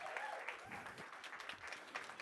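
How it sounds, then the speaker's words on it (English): A seminar audience gives a round of applause, a faint, distant, steady patter of clapping with a few louder claps and murmured voices underneath. "Let's give a giant round of applause to Gil and Lorena Ramos"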